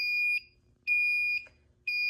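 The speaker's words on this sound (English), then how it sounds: "The system went into alarm and the relays did work" A home fire alarm system sounds a steady high electronic tone in repeating bursts, about three pulses with short pauses between, heard up close indoors with no talking.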